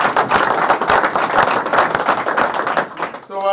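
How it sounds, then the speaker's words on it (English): Sales meeting attendees clapping for the Whitehall division: loud, busy applause from a packed room that carries on steadily, then stops abruptly near the end as a voice comes in. "So everybody clap it up for the Whitehall guys being here today."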